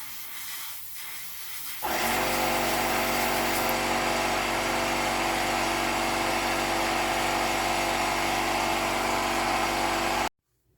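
A workshop air compressor starts after a short quiet lead-in and runs loud and steady with a broad hiss and a low motor drone, then cuts off abruptly near the end.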